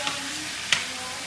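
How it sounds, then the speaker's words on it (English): Chicken frying in a skillet for tacos gives a faint, steady sizzle, low and even, with one brief sharp crackle or clink in the middle and no talking. "she put the chicken in a skillet. Let this sizzle up a little bit, cook"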